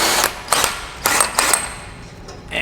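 A socket ratchet on a long extension with a swivel socket, working on bolts of a car during a twin disc clutch installation, with several quick bursts of rapid clicking pawl ratcheting, close and loud, with no speech.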